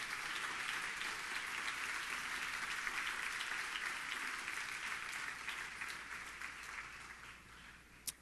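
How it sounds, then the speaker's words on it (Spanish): A church congregation applauding, a sustained wash of many hands clapping at steady volume that tapers off toward the end, heard from within the room. "Alguien que alabe y aplauda al Señor."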